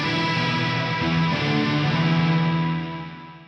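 Distorted electric guitar chord sustaining through a Fractal amp modeler with a stompbox effect placed ahead of the amp, loud and thick with a shimmering modulated texture, ringing steadily before fading away.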